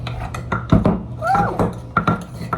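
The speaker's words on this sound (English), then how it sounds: "Then give this a good mix." Seasoned snack with a pinch of MSG being tossed in a bowl, giving scattered clinks and dry rattles of dish contact in short bursts, fairly close, with a brief voice in the background.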